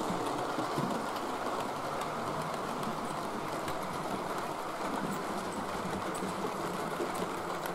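Model train running on the Little Bytham layout, a continuous soft rumbling and clattering of wheels on track, steady and moderately distant, with no talk.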